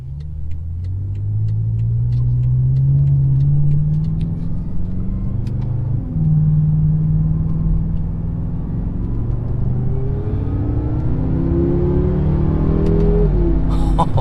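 A BMW M6 Gran Coupe engine accelerates hard through the rev range, a loud close rumble climbing in pitch, dipping at a gear change, then rising again with a smooth, steady drone.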